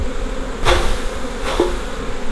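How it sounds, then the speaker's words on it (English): A dense, loud buzzing of many honey bees at an open hive during an inspection fills the clip, with a couple of brief knocks or bumps over the constant drone. "Just using the lid to catch the bees"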